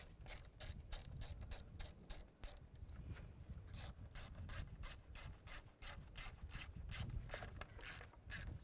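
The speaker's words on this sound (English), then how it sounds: "we're going to tighten all these bolts up" Rapid ratchet clicking in steady repeated strokes as bolts are tightened on a thermostat housing connector of a 2005-2010 Chevrolet Cobalt, close and clear with a low rumble underneath.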